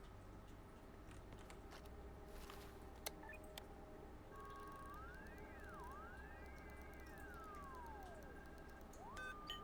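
Alarm siren in the video game Stalker 2, a rising and falling electronic wail that sweeps up and down several times over steady low background hum, starting partway through and continuing to the end.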